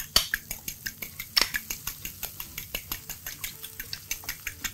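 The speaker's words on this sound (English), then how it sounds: "Eggs are being beaten." Eggs beaten in a bowl with a utensil while cooking lunch: a fast, even train of sharp clinking taps, about four per second, close and fairly loud, with no voices.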